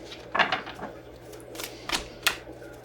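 Quick crisp riffling and slapping of tarot cards in a few short bursts, close by and fairly quiet, with soft pauses between the shuffles.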